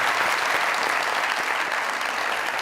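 Sustained applause from a studio audience at a Pakistani comedy talk show, dense and steady, loud and close throughout with no talk over it.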